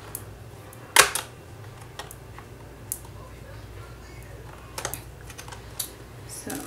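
Plastic clicks and snaps as a corner of a LeapFrog 2-in-1 LeapTop Touch tablet case is pried up during repair, one sharp crack followed by a few quieter taps, close and alone.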